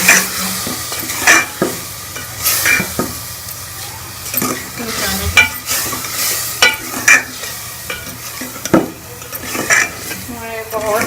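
Spices for beef palak gosht fry loudly in a pot, the spoon repeatedly scraping and clanking against the metal in an irregular rhythm over a constant close sizzle.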